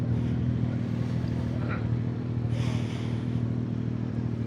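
A Zontes 703F motorcycle on a test ride over a slippery, muddy road, its engine holding a steady, close, loud drone with wind rush and light rattles and no clear revving.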